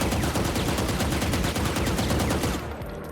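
Vandal rifle in Valorant fired in a sustained full-auto spray, rapid evenly spaced loud shots running about two and a half seconds before the burst stops and a brief tail fades out.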